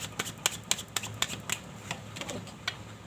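Tarot cards being shuffled by hand, a quick run of light, crisp riffling clicks in an uneven rhythm, close and soft, with no talking.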